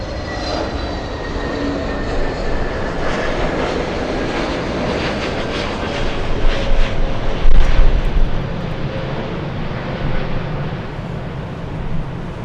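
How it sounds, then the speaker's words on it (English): A Boeing 747 lands at LAX on the south side, its jet engines a loud, broad roar that swells in the middle as it passes closer, then eases off, with no one talking. "Big 747 landing in the south side."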